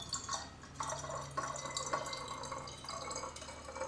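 Tap water pours into a plastic spray bottle being filled halfway for a homemade cleaning spray, a close, steady splashing trickle with small drips throughout.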